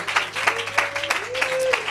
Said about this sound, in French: une main d'applaudissement, là.